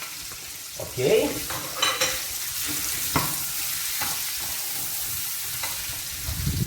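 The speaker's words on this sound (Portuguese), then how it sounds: "Agora eu vou acrescentar a isso daqui cebola" Onion frying in hot fat for borscht makes a constant close sizzle. Stirring scrapes and clinks come through it, and a voice says one brief word.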